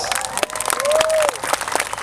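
An audience claps through a religious lecture at an Islamic boarding school gathering: a dense, steady patter of many hands, with crowd noise and a thin whistle-like tone drifting across the middle.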